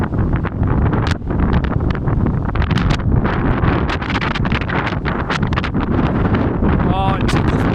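Very strong wind buffets the microphone in loud, continuous gusty roaring, with a fallen tree and debris around, while a person exclaims now and then over the blast.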